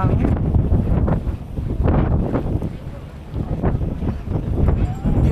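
Strong wind buffets the microphone in gusts at a coastal rock formation in Pagudpud, Ilocos Norte, a steady loud rumble with surges, with people talking beneath it.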